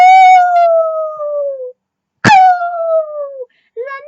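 A person mimics a howl with loud drawn-out falling 'ow' cries, two long ones and a short third, close and alone.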